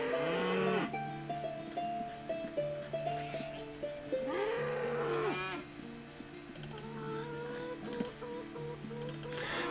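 Several cows moo in long drawn-out calls while being attacked in Ultima Online, mixed with game music and soft ticking sounds.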